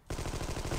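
A machine gun firing in the video game Armed & Dangerous, a fast, even stream of shots that begins abruptly and fills the whole short burst, loud and close.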